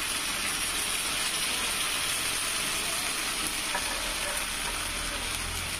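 Bottle gourd dosa batter fries on a medium flame with a steady, close, crackling sizzle that stays even throughout, with no voices.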